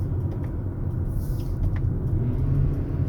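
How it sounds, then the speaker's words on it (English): A 2021 Acura RDX at night with its transmission automatically rev-matching on a downshift, a low engine rumble that swells slightly and steadies inside the cabin. "So the transmission rev matches for you."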